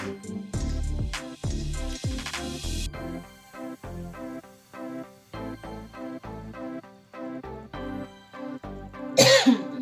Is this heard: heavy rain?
no